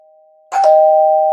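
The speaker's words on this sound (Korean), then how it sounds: "초인종이 울렸습니다." A doorbell chime sounds once, loud and close: a short ding followed by a clear sustained tone ringing out after a faint background hum, no voices.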